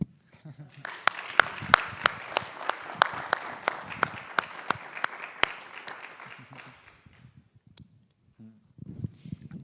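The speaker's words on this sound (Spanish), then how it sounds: "Yo voy a aplaudir" A small group applauds at a conversation event on body and writing, a steady run of crisp claps for several seconds that fades out, with faint talk at the end.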